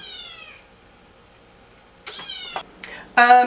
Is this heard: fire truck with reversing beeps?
no